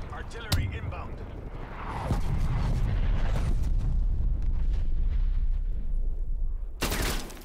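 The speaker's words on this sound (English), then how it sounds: "Hostile artillery targeting active. Road stun. Artillery inbound." Artillery shells burst in a combat video game, a heavy rumbling barrage rolling on for several seconds with sharp blasts near the start and end, under a voice.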